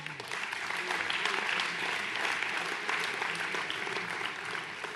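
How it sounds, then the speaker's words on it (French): A crowd claps steadily at a municipal New Year's wishes ceremony in 2020, sustained applause from a seated audience filling the whole five seconds. "on peut applaudir Diego également"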